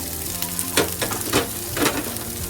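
Steamed broccoli hits a hot pan with clams already frying, a steady loud sizzle with a few sharper bursts as the pieces are tossed and stirred.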